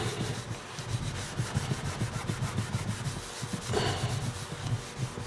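Grease pan scrubbed with Easy-Off oven cleaner and a Scotch-Brite pad, close and steady, a rhythmic rasping back-and-forth rubbing with no talk.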